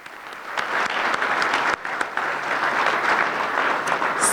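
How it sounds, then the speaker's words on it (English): Banquet guests at a chamber awards dinner applaud the food and beverage team, sustained crowd clapping that briefly dips near the middle before swelling again. "I would like to give a round of applause to our food and beverage team"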